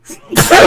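A person sneezes once, a sharp burst rising from a soft intake, loud and close in a quiet room during a tabletop role-playing game session.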